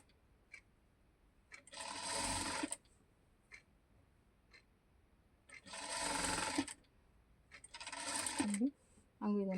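A domestic sewing machine stitches piping onto a square neckline in three loud whirring bursts, each a couple of seconds long, separated by quiet pauses with faint clicks and handling noises.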